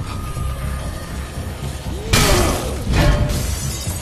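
Glass breaks with a bright shattering crash in Dead Rising 3, then a second smaller burst of breaking shards follows, over a low game background hum.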